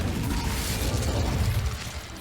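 An Incendio fire spell cast in the video game Hogwarts Legacy gives a dense, roaring burst of flame with a rumbling low end that holds steady for about two seconds.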